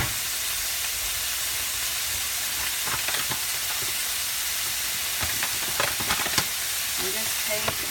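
Meat frying in a pan as flour is sprinkled over it, a steady broadband sizzle with soft scattered taps and stirring clicks throughout, close and continuous with no talking.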